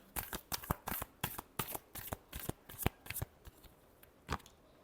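A deck of tarot cards being shuffled close up, a quick run of crisp riffling flicks in steady rhythm with short pauses, ending in a few final snaps, with no talking.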